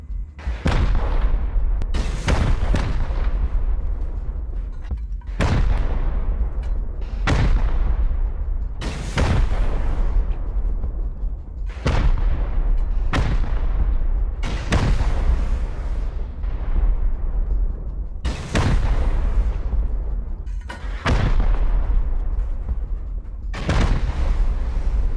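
Rockets fire and explode one after another during a base raid in a survival video game, each a heavy booming blast with a decaying tail, about a dozen in a roughly regular rhythm, loud and close.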